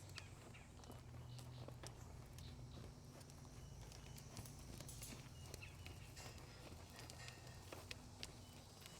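A horse walks at a steady, even pace during a liberty lesson, soft hoofbeats falling in a regular rhythm over a faint, constant background hiss at moderate distance.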